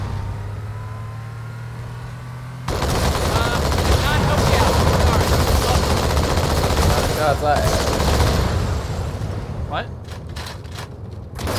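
Gunfire aimed at a Pelican dropship in Halo 2, loud sustained automatic bursts over a roaring engine drone, with a few sharp single shots near the end and a voice briefly speaking.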